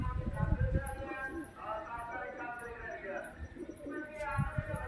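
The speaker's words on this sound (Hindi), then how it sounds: "देख सकते हैं हमारे कबूतर जो है छत पर उतर रहे हैं" Pigeons landing on a rooftop after a long flight give soft, low cooing among faint chirps, close and steady, while people talk over them throughout.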